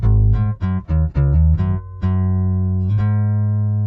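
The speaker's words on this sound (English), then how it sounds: "I really like this detune, this chorus setting." A bass guitar played through a pitch shifter on its detune chorus setting, blend turned fully up, plays a quick run of close, punchy notes and then holds two longer, thick, shimmering tones.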